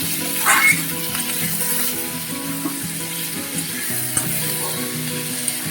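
Tomatoes and onions frying and being stirred in a pan for a Bengali egg curry, giving a steady close sizzle with scraping stir strokes and a brief clink, with no voices.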